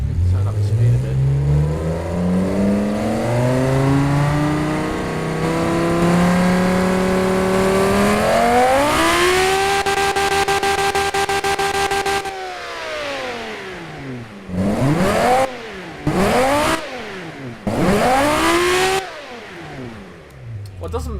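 A simulated car engine from the game Automation climbs from a low idle into a rising rev that holds, then cuts off and blips up and down several times in short bursts, loud and alone.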